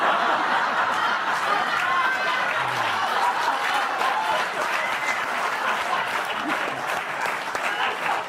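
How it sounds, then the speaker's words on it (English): Studio audience at a late-night comedy show claps steadily and loudly for several seconds, with faint laughter and murmuring mixed into the applause. "Oh, keep clapping."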